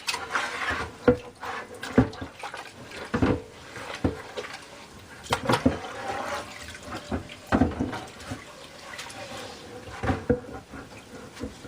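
Water splashes and sloshes as a rusty cast iron skillet is rinsed, with irregular knocks and running-water sounds close by.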